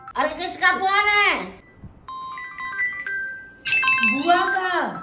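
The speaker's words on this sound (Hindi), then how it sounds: "मम्मी कॉल आ रहा है।" An incoming call rings on a mobile phone as a short electronic melody of beeping tones, heard between bursts of expressive voices talking before and after it.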